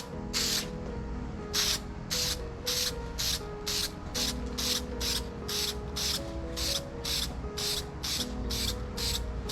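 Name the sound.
spraying Plasti-Dip tack coat onto wheel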